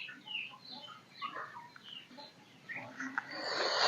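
Small turkey chicks give thin, high peeping calls in quick, scattered bursts at close range, ending in a louder rush of rustling noise.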